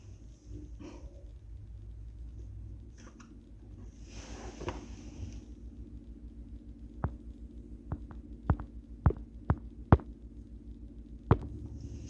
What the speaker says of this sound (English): Sorry if you can hear my washing machine in the background.